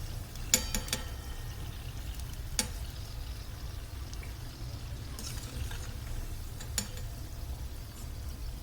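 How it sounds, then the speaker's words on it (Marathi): Fenugreek and sweetcorn vadas frying in hot oil, a soft, steady bubbling sizzle with a few sharp clicks of a utensil against the pan, faint and unbroken. "मी आता बाकीचे पण वडे तळून घेते."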